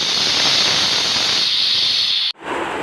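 A pressure cooker holding dal and rice together hisses loud and steady with escaping steam, a continuous high jet that cuts off abruptly near the end, leaving a quieter, duller rush.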